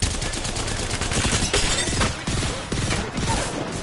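Dense automatic gunfire rattles without pause in a fight in the video game Apex Legends, loud and close, with overlapping bursts for the whole stretch.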